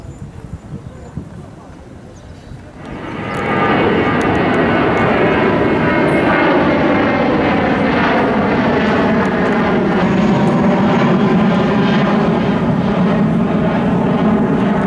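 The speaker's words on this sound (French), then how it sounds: "Un décollage toutes les 2 minutes environ." An airplane taking off at Faro airport in the Algarve, a loud, sustained jet engine roar that swells abruptly after a few seconds of quieter background noise and holds steady, close and dominant.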